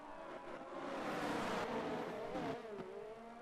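Race car engines in a GSRL sim race at the Qatar circuit, a steady revving drone with shifting pitch as cars accelerate and pass, fairly faint and continuous with no voices.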